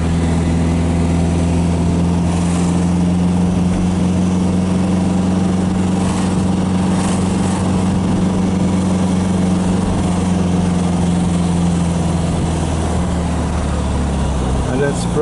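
A 1969 Volkswagen Beetle's air-cooled engine drones steadily while climbing a hill in second gear, a constant low hum heard from inside the car throughout, with a person talking over it.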